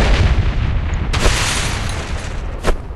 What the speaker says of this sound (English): I'm using my grenades